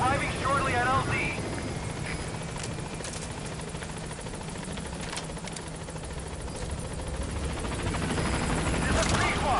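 A helicopter in Metal Gear Solid 5 approaches a landing zone, its rotor thumping in a loud, steady drone that swells near the end, with a radio voice talking over it.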